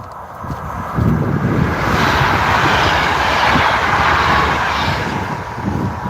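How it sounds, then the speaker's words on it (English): A train approaching in an online multiplayer shooter game, heard as a loud, continuous rumbling roar that swells after the first second and holds steady with a broad windy hiss on top. "I can tell there's a train coming."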